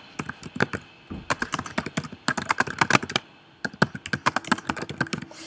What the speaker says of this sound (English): You can either copy and paste it, or you can just type it in.